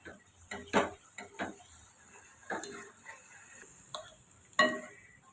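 A utensil scrapes and taps against a frying pan in scattered stirring strokes while sautéing spices, with a faint sizzle beneath, close and fairly quiet.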